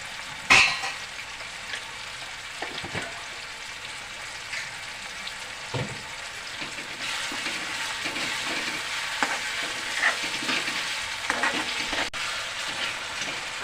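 Tomatoes frying with salt in a pan while making traditional kat vada, a steady low sizzle with occasional stirring knocks and scrapes throughout, fairly quiet and without speech.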